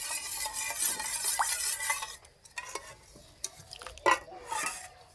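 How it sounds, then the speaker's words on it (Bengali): Biscuit dough being kneaded by hand in a bowl as sugar water is worked in, giving soft wet squelching and stirring sounds with a few light clinks of the bowl, fairly quiet and close, no voices. "অল্প অল্প করে দেবো আর মাখতে থাকবো।"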